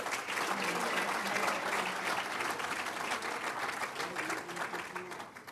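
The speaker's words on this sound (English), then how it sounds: "Big round of applause for George and Kay." Sustained audience applause at an industry awards celebration, a dense, steady wash of many hands clapping throughout, with faint voices mixed into the crowd.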